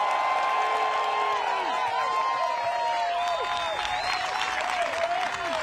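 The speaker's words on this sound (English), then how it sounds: "That's a cheer that rivals Kale" Spectators at the final round of The Preserve Championships cheer, clap and whoop for a competitor, a dense sustained roar of applause with shrill whistles and shouts rising over it.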